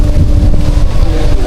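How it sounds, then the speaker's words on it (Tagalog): Strong wind buffets the microphone in a steady low rumble, constant and loud throughout, with no voices. "Ang lakas talaga ng hangin"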